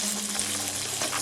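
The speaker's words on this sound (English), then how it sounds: "always constantly stirring up your noodles" Spaghetti noodles are stirred in a pan, making a brief, close hissing bubble with soft scraping and no voices.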